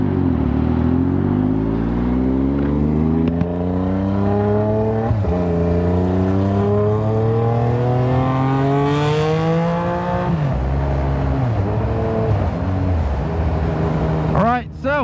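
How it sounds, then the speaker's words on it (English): A Yamaha MT-09 motorcycle with a straight-pipe exhaust revs loudly and close, its raspy engine note sweeping up and down through several long throttle blips, with a sharp burst near the end. "It's actually not that loud that I would anticipate, but it has this like raspy BMW M3 sound."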